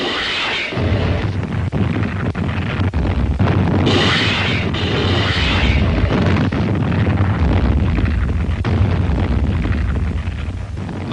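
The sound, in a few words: rocket ships bombarding invasion beaches, explosions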